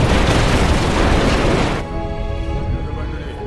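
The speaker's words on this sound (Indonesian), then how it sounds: "dan bom pun diledakkan" A bomb explodes in the Korean disaster film Pandora, heard as a massive, roaring blast that fills the first two seconds. It fades into a lower rumbling tail.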